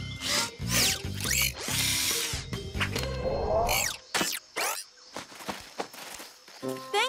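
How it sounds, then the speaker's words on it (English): A cartoon power screwdriver takes apart a jungle gym in a rescue scene, whirring in several loud bursts with clanks, thuds and zippy effects between them. "Rocky, take apart the jungle gym. On it! Ruff. Screwdriver!"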